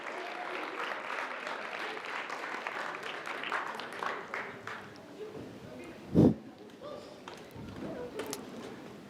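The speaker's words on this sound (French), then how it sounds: "On vous applaudit pour leur courage," Audience applause at a live student talent show finale, moderate clapping that rises and eases, with a loud thump partway and some voices underneath.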